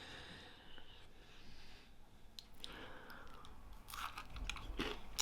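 Close-up crunching as a crisp biscuit with a dark chocolate centre is bitten and chewed, giving soft crackly bites that grow louder near the end, with breathing between them.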